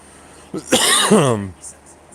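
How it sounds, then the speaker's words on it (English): A person who is under the weather gives a single harsh, throaty cough up close, lasting about a second. "you'll see me coughing a lot for now"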